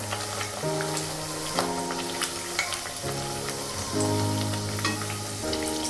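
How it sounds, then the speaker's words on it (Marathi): Sweet potato puri deep-frying in oil while pressed down from above, a constant close sizzle and bubbling layered with clear tonal ringing notes, likely background music, no voices. "पुरी लगेच पलटी करायची नाही थोडीशी वरतून अशी प्रेस करा"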